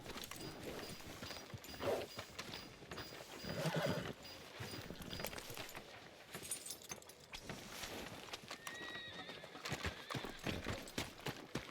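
Horse hooves clip-clopping on a town street in Red Dead Redemption 2, with a whinny or two and tack jangling; steady close hoofbeats at walking pace with ambient town sounds behind.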